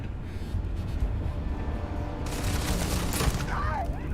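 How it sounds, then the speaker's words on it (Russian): Gunfire from a revolver in the video game Starfield, a couple of sharp shots amid loud game noise and rumble, followed by a bright burst of effects. "Два выстрела, труп даже на таком средней дистанции."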